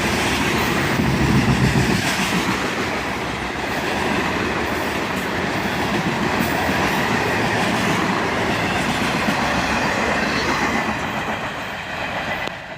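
A freight train with a cut of covered hoppers rolls past close by, a loud continuous rumble and rattle of wheels and cars that eases slightly at the end.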